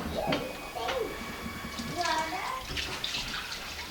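Chicken broth strained from a Dutch oven through a cheesecloth-lined strainer: liquid pours and splashes in a steady stream, close by, with voices talking beneath it.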